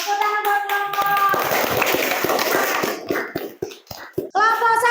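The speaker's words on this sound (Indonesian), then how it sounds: "Tepuk tangan buat kelompok." A classroom audience claps for a presentation group in a short, busy burst of hand claps, close and loud, with voices heard at the start and end and a few sharp taps as it dies away.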